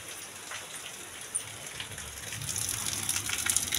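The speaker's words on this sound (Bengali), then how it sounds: "বাইরে দেখছি খুব বৃষ্টি হচ্ছে। কত জোরে বৃষ্টি হচ্ছে দেখো" Heavy rain falls outside as a dense, steady hiss of drops that grows louder and fuller toward the end, with no voices.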